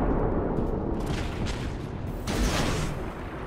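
Warship main guns fire a broadside in the naval game World of Warships, heavy booming blasts rolling out in two loud bursts over a continuous rumbling battle backdrop.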